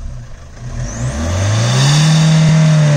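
A diesel car fitted with a turbo whistle effect and small exhaust revs hard, its engine note climbing steadily into a loud, sustained high-rpm roar that holds close and steady to the end.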